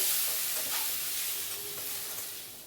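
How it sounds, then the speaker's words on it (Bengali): A pan of pointed gourd filling fries with salt, sugar and turmeric while being stirred, giving a soft, even sizzling hiss close by that fades slightly toward the end. "দেবো 1 চামচের মতো হলুদ, দিয়ে ভালো করে নেড়ে চেড়ে নেব"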